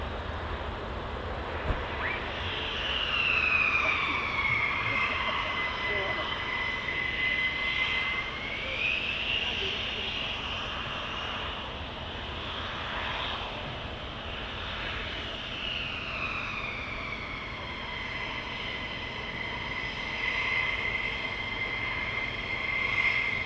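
A military jet taxiing at RAF Lakenheath, its engine whine rising and falling continuously for the whole stretch, steady and fairly loud at a moderate distance, with no voices.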